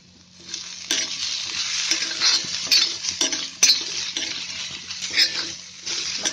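Corn kernels cook in a pan over low heat, a soft frying sizzle broken by repeated scraping stirs and light clinks of a utensil against the pan, close by and without speech.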